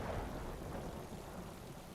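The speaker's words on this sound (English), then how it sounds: "Oh, it's all stormy as well." Steady rain pours down in a stormy scene at a castle by the sea, with a low rumble of thunder rolling beneath the constant hiss, heard alone and fairly soft.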